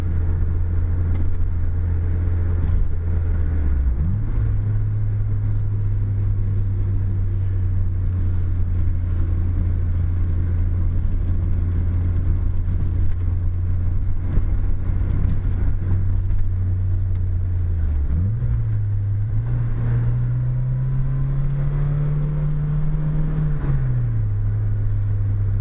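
A Toyota AE86 drives the winding mountain road of Mt Akina, its engine droning steadily inside the cabin, dipping and rising with gear changes and climbing in pitch on a long pull, with no talk.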